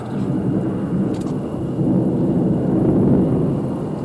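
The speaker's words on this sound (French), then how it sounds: "le gros de l'orage nous passe à l'ouest, avec essentiellement de l'activité intra-nuageuse" Low thunder rumbles from a passing thunderstorm, a deep, rolling roll that swells and fades over several seconds, distant and heavy with no voices over it.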